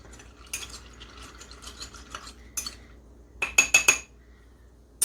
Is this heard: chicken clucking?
no